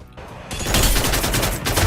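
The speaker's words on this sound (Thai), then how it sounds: "เฮ้ยมีคนยิงกันด้านล่าง" Rapid gunfire from the Free Fire battle game, with SCAR rifle skins being tested, opens as a burst after a brief lull and then keeps going as dense, loud, continuous automatic shooting.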